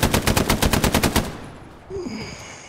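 Rapid automatic fire in the World War II shooter Hell Let Loose: a loud, close burst of about a dozen evenly spaced shots that stops abruptly, followed by a quieter tail of battlefield ambience.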